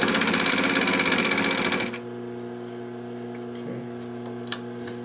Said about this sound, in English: She is sewing pretty good.